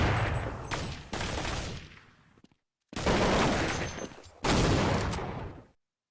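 Sniper fire and other gunfire in a shooter video game, three loud, sharp bursts that each decay over a second or two, separated by brief silences.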